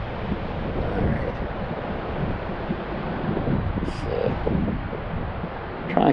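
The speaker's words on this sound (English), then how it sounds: "So now we're over the water, so we got strong wind." Strong wind blows over open water, buffeting a DJI Mavic Mini drone in flight, with a constant rushing roar that surges and eases and heavy low buffeting throughout.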